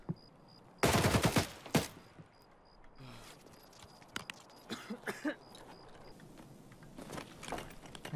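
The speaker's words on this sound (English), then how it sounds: "I just heard gunshots outside" Gunfire rings out in the video game Escape from Tarkov: a loud burst of shots early on, then scattered sharper cracks and footsteps, with a player's voice faintly present.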